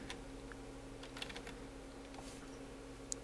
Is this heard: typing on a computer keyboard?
yes